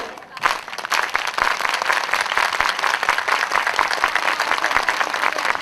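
A concert audience at a show in Bari Sardo in 2004 claps in fast, steady rhythm, with dense palmas filling the space close and loud from start to end.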